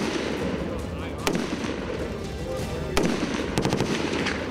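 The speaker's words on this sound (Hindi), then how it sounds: "एक निशाने पर उन्होंने कई घंटों तक जमकर गोलीबारी की" Soldiers training with American weapons fire at a target: a few sharp, fairly distant gunshots, then a rapid burst of shots near the end, over a constant background murmur.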